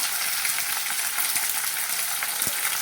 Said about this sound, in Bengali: দিয়ে এবার রসুন টমেটো পেঁয়াজ কষা হবে চিকেন কষা